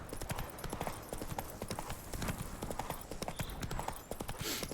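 Steady rhythmic clip-clop of horse hooves trotting in a video game, loud and continuous with a faint whinny-like tone, while a person talks over it.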